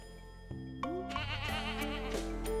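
A goat in the farming video game Stardew Valley bleats in a quavering, wavering cry that lasts a couple of seconds, heard up close against a steady game background hum with a few soft clicks.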